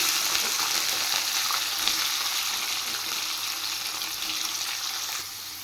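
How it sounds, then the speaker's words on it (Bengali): Chopped radish sizzles lightly in hot oil in a pan, a steady bright hiss lasting several seconds that eases slightly at the end. "এবার আমি কেটে রাখা মূলোগুলো একটু সাঁতলে নেব"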